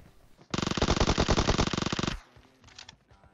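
An UZI submachine gun in PUBG Mobile fires one sustained burst of about a second and a half, loud and close, with rapid evenly spaced shots, followed by a few faint scattered sounds afterward.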